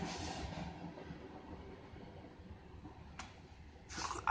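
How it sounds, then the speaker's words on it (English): A train rolls past on tracks right beside an auto repair shop, a steady rumbling wash of wheels and cars close by, with a couple of brief hissing or squealing bursts near the end and no talking. "I was trying to wait for the train to go by."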